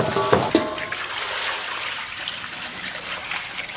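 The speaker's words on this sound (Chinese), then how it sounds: "先把这个牛肉给它清洗一下啊。" Frozen beef steak rinsed under a running tap, a steady splashing hiss of water that sounds loudest at the start and then settles into a softer, even trickle.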